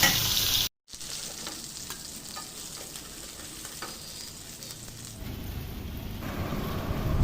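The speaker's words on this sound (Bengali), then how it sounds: "এবারে মাছগুলো ভেজে নেব" Fish pieces frying in hot oil give off a continuous soft sizzle with faint crackles, quieter and more hissing after a short break, and no one speaks.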